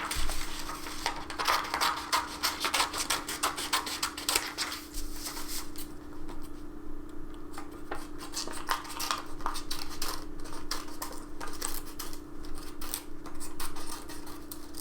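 Scissors cutting out a paper circle, a steady run of quiet crisp snips and paper rustles close by over a constant low electrical hum.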